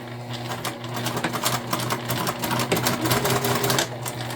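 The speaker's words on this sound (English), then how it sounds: "we're gonna go ahead and sew together at a 1/4 inch seam allowance" A sewing machine runs a quarter-inch seam through fabric for a Dollar Tree car trash can, its rapid needle chatter loud and close, surging and easing in short bursts.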